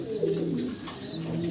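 Pigeons at a pigeon farm give a short run of soft, throaty, close cooing, with faint higher chirps above it.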